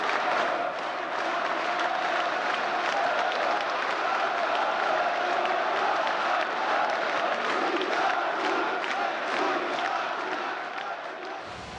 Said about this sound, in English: The crowd is unbelievably excited.